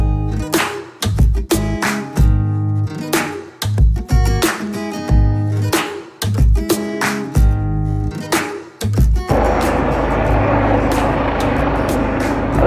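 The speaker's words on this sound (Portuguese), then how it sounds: "O helicóptero do INEM." An INEM medical helicopter passes overhead in a residential neighbourhood of Évora, its rotor producing a loud rhythmic chopping pulse that gives way to a steady broadband roar as it draws nearer.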